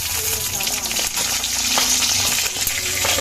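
Bitter melon sizzles steadily in a hot pan with crackling and occasional clinks of stirring, close by and continuous.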